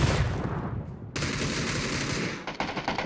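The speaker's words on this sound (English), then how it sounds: "Oh, there's the shotgun. There's the shotgun." Shotgun fire in a PUBG esports match, loud, dense blasts and a rapid exchange of gunfire with sharp cracks and a brief lull near the end, heard close and without talking.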